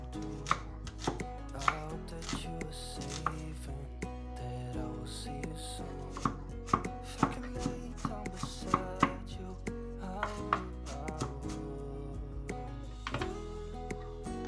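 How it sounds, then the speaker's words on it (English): A big knife slices onions on a cutting board for homemade cough syrup, a steady series of crisp, close chopping taps at an uneven rhythm with no talk. "I'll slice it. Let me take a big knife."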